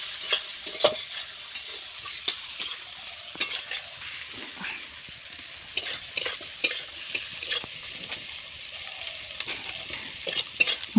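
Food sizzles in a pan while a utensil stirs and scrapes it, with a continuous frying hiss broken by frequent irregular clicks and scrapes up close.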